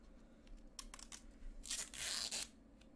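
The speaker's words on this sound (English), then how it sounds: "oh wait, I also gotta peel this off first" Protective film is peeled off a Razer Viper Ultimate charging dock, a few quick crinkles followed by a longer, louder tearing rip, close up against a faint background hum.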